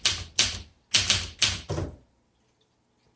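Keys on a 1966 Olympia SM9 manual typewriter strike in five sharp, close clacks in a quick uneven rhythm, then go quiet, with one faint tap at the end.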